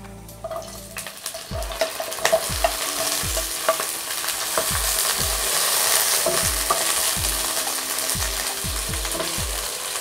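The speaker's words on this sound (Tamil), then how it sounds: "எண்ணெய் சூடானதும் நம்ம கட் பண்ணி வச்சுருக்க வெண்டைக்காயை இதில் சேர்த்துடலாம்" Cut okra frying in hot oil in a kadai, a steady bright sizzle under repeated metal scraping and stirring strokes, close and continuous, with occasional clinks of the spatula against the pan.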